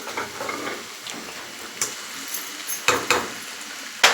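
Flattened rice poha is stirred into cooked potatoes in a pan, with soft scraping and clinking of a spoon against metal in scattered strokes over a faint sizzle, close and moderately loud with no talking.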